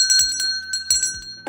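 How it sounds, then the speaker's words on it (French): A clear bell rings in short repeated strikes, bright and close with ringing overtones, sounded to mark a drawn playing card, the two of spades, during a card game show. "Le 2 de pique, il méritait son coup de cloche."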